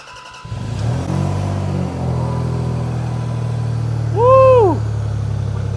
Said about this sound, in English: Hear that glorious V6. Here it comes, tractor mode.